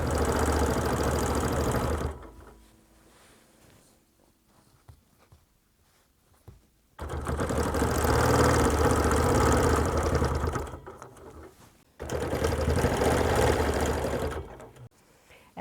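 A sewing machine quilts around a Lemoyne Star, running in two steady stitching bursts with a pause of quiet rustling between them, then a short final run.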